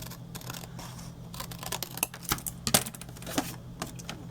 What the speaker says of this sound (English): Open it up, trim off this corner, and this corner here.